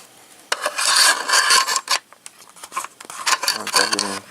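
An SSD drive being slid back into a laptop bay, heard as brief, close scraping and rubbing bursts with a short pause between them.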